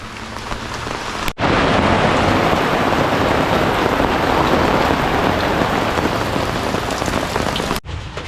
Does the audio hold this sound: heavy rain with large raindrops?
yes